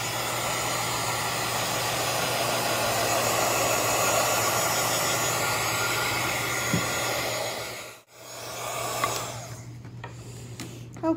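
A heat gun blows steadily close by, drying crackle medium paint on furniture; the even whooshing drone runs for about eight seconds, cuts out abruptly, then faint clicks and light handling noises follow.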